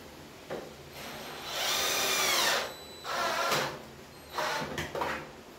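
Cordless power drill set to its lowest torque setting driving a screw while installing a bathroom organizer, in several short whirring bursts with pauses between them, close and moderately loud.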